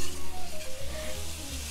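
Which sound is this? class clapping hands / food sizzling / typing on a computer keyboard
food sizzling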